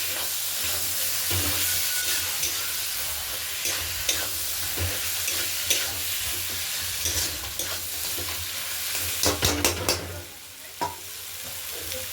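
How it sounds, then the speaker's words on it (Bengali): Spice paste with salt frying in a pan for a Bengali catla fish-head mixed vegetable chorchori: a steady sizzle runs throughout, punctuated by clicks and scrapes of stirring, with a cluster of sharper knocks near the end. "দিয়ে ভালো করে মশলাটাকে কষিয়ে নিতে হবে"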